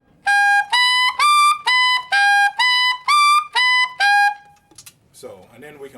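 A tenor saxophone plays a run of high altissimo notes from an A blues scale, nine bright sustained tones in a steady rhythm, loud and close, followed by a short breathy pause and faint noise.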